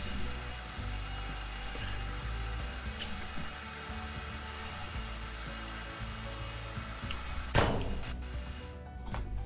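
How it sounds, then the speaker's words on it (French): An angle grinder cuts through ship metal in the video game Ship Graveyard Simulator 2, a steady, continuous grinding rasp that swells into a harsher burst near the end, with no talking. "Donc là, on est parti pour disquer."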